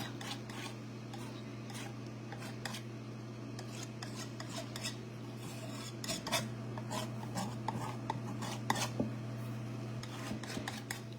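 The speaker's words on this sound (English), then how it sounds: "all you're doing is scraping some of that paint away" A palette knife scraping reactivated paint inlay off a surface, giving faint, close, repeated short scrapes over a low steady hum.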